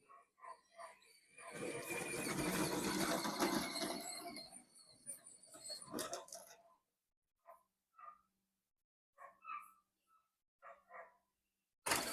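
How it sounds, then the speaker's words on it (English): Dogs bark in the background, a burst of loud, rough barking and yelping early on, then scattered shorter barks and yips spaced apart, fairly distant with no talk over them. "Dogs in the background, of course"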